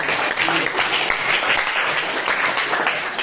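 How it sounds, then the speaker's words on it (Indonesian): A school class applauds a student, steady clapping from many hands filling the room for a few seconds, with some voices mixed in. "beri tepuk tangan untuk Reinhard Sumade"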